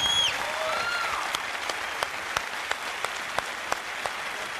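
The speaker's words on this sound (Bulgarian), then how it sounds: "И силния аплодисмент за този истински мъж." Studio audience applauding a rock legend on a Bulgarian impersonation TV show, a fading wash of clapping with a few sharp individual claps standing out as it dies away.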